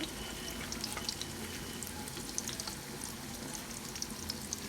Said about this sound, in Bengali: আমি এতটুকু পেঁয়াজ দিলাম